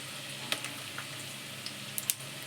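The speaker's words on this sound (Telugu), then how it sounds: "మంచిగా వేగనివ్వాలి." Turmeric, bay leaf and spices fry in hot oil for a Telangana mango egg curry, a soft steady sizzle broken by a few sharp pops and crackles.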